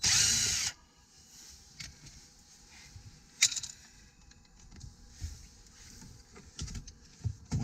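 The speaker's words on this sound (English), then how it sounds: "you will need to remove the amplifier retaining screws that will allow the amplifier to drop forward" A brief loud whir of a power tool opens, then quiet clicks and handling noises follow as amplifier retaining screws come out inside a Mini Cooper, close and faint.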